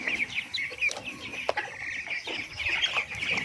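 Farm chickens cluck near and fairly loud, a busy overlapping chorus of short clucks and calls that runs throughout.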